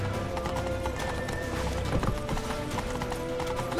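Horse hooves galloping in The Witcher 3: Wild Hunt, a steady rhythmic clatter of hoofbeats close by, with a brief whinny and game ambience mixed in.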